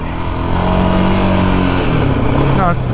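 A 2024 Yamaha Raptor 700R ATV engine runs steadily and loudly up close, a low droning idle with a slight rise near the end, freshly serviced with a new oil change and clutch cable.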